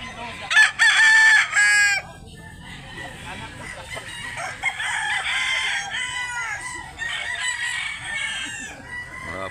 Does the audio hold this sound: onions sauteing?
no